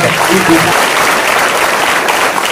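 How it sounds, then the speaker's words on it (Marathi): Students in a school auditorium break into loud, dense applause that runs steadily for the whole stretch, with a brief voice at the very start. "खरंच जोरदार टाळ्या स्वतःसाठी"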